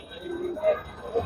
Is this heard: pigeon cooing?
yes